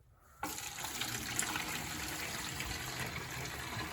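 Dirty, muddy water from prospecting paydirt poured out of a bucket, a steady close gush that starts abruptly and runs on without talk.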